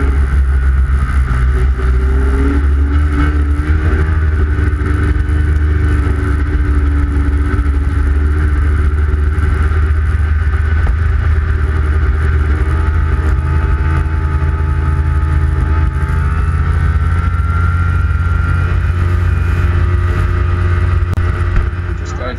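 A vehicle engine droning loud and continuous on the throttle while riding up Yanks Peak, with rumbling low tones and wind buffeting that stay steady throughout, no clear speech.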